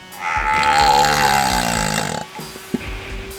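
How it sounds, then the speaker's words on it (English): Squeezing a differential fluid bottle while refilling a 2020 Ford Tremor differential makes a long, loud, fart-like sputtering blurt lasting about two seconds, followed by a few short squelches. "The fart noises."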